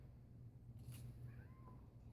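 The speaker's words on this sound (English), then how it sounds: "Oh, listen to my cat Mittens. He's upset about something" A house cat gives an upset, drawn-out meow in a quiet indoor room, a single fairly faint call with a falling tone, heard alone against a low steady hum.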